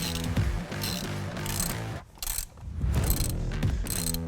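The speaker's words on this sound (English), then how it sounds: "Using a long extension, you're going to loosen the hose clamp on the lower pipe." A ratchet on a long extension loosening a hose clamp on the lower intercooler pipe of a 2011-2016 Ford Powerstroke 6.7L, giving close, steady clicking in rhythmic strokes with one brief pause midway.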